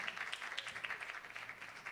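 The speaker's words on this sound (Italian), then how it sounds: "ciao Donatella, un applauso." Applause from an audience at a 2021 school gala: a short, faint patter of clapping that carries on for about two seconds.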